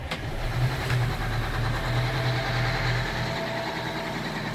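A 65-foot yacht's engine starts and rumbles steadily at a moderate level, a mechanical idle with a constant deep hum and no voices.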